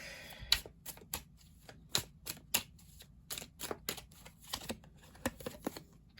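Light Seers tarot cards are shuffled by hand in a quiet room, a run of about fifteen crisp, close riffling snaps and slaps at an uneven rhythm.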